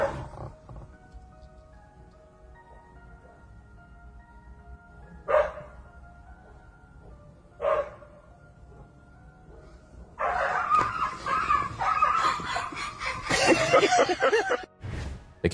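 A cat drives off a dog: a few short sharp cries at first, then a loud, rough burst of snarling, yowling and barking over the last several seconds, close by.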